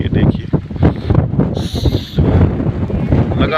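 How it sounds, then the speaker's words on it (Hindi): Strong wind buffets the microphone outdoors in gusty, rumbling bursts, loud and close, while someone speaks over it. "बहुत तेज़ हवाएं चल रही है और रात से चल रही है।"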